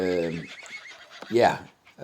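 A horse in the survival video game Westland Survival lets out a loud, close whinny that rises and falls, followed by a second shorter neigh, heard alone without talk.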